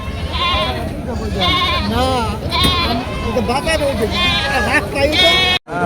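Goats bleat repeatedly and loudly at a large livestock market in Garobazar, Ghatail, Tangail, with overlapping wavering calls running throughout over a steady background of crowd chatter and nearby voices.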